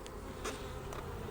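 Honey bees buzz faintly around an open hive during a beekeeping check, soft hum with a couple of brief close passes of individual bees.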